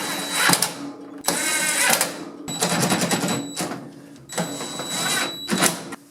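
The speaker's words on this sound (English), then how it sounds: "And just tighten these screws down." Screws being tightened on a freezer with a power driver, several loud close whirring bursts separated by brief pauses.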